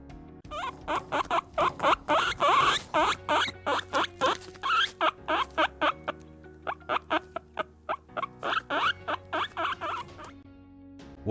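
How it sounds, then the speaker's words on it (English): A guinea pig squeaks in a rapid series of short, high, repeated chirps and wheeks, close and clear over a soft low background tone, with no talking. "It's a guinea pig."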